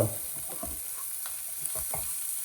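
Garam masala and ginger paste fry in a pan for an Andhra-style fish and crab curry, giving a soft, steady sizzle broken by a few scraping stirs, close and alone.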